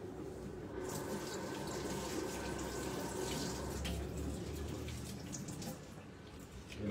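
A tap runs steadily into a sink as chopped celery is rinsed, a continuous close splashing rush that eases off near the end.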